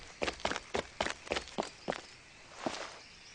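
Footsteps in the survival game Rust: about seven crisp, evenly spaced steps land close by, followed by a softer, more muffled step after a short pause, with nothing else audible.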